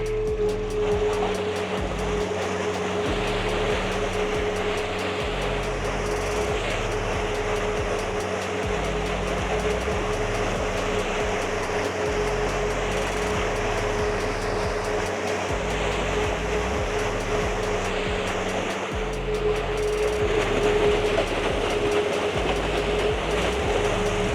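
A hydroseeder tank churns fertilizer into hydroseed slurry, giving a continuous loud mechanical rumble with a steady engine hum and faint rhythmic knocking throughout, with no talking.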